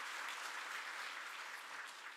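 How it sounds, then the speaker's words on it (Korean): A church congregation applauds its worship team at an early-morning special prayer service, steady broadband clapping filling the room evenly from start to finish with no pauses. "찬양단을 위해서 한번 큰 박수로 격려해 주시기 바랍니다."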